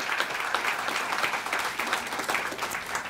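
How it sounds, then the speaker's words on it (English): Sustained audience applause at a reception, a dense, steady wash of many hands clapping throughout with no voices standing out. "That's another good applause point there."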